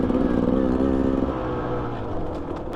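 A Beta dirt bike engine pulling in third gear, a steady close, buzzing two-stroke drone that holds a strong pitch and then eases slightly, heard without talk.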